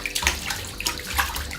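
Water runs steadily from a sink faucet where a five-month-old baby plays, a short continuous splashing stream.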